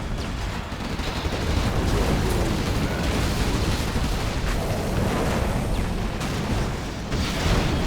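A helicopter is blown up in the real-time strategy game Generals Evolution, a loud, continuous roar of explosions and gunfire layered thickly together for several seconds during a large battle.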